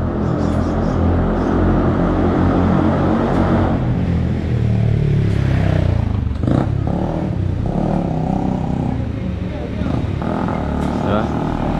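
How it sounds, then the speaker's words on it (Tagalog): Small motorcycles, scooters and other traffic pass through the historic Asin Tunnel in Tuba, Benguet, their engines booming and echoing loudly in the enclosed space as a continuous rush of passing vehicles under a speaking voice. "Yung mga dumadaang sasakyan, lalo na yung motor na maliliit, tunog big bike."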